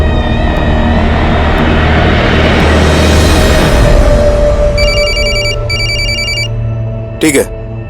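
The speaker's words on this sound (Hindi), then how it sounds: "सर चेतन का फोन था" A telephone rings in a tense crime drama scene, repeated electronic ring bursts rising over a loud background rumble and voices, ending with a brief clatter.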